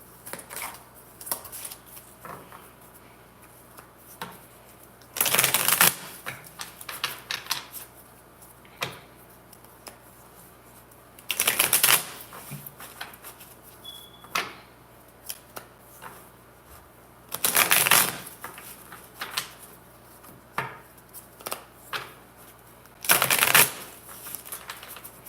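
Playing cards shuffled in several loud bursts roughly every six seconds, with softer card handling and small clicks and taps in between, no talking.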